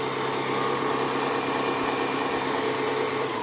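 The motor of a Braun Minipimer 5235 hand blender, rated at 1000 W, runs at constant fast speed with a loud, steady, close high whine and no pauses or talk.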